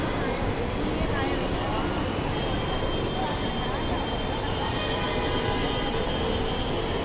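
Steady rumble of a Chennai Metro train at a station, broadband rail noise throughout with faint voices underneath.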